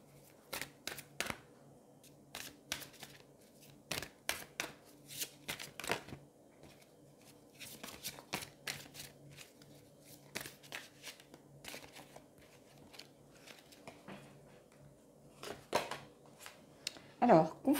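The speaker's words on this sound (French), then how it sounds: "on va aller prendre une carte des anges" Angel oracle cards are shuffled and one is drawn, giving a long run of soft, irregular flicking and riffling snaps close by, quiet overall, with brief louder rustles near the end.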